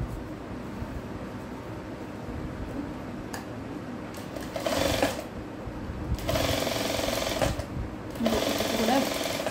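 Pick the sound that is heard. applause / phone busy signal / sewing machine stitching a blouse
sewing machine stitching a blouse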